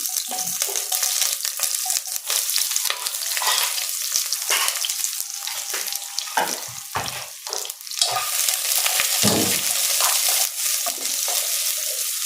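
Sliced onions frying in oil for mutton curry, a loud continuous sizzle with frequent scraping and stirring knocks from a spatula throughout.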